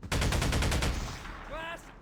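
A rapid automatic weapon fires in Halo CE with the XAM mod, giving a burst of about nine loud, evenly spaced shots, followed by a short electronic warbling tone as the burst ends.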